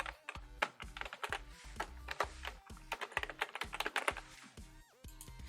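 Password typed on a computer keyboard, a quick run of close, light key clicks in an uneven rhythm with short pauses, fairly quiet and without talking.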